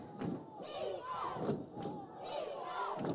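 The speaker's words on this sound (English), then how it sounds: "So Comet crowd getting a little rowdy here." Rowdy home crowd at a rainy varsity football game against Ottawa, a distant rumble of shouts and yells rising and falling in waves, with a commentator talking over it.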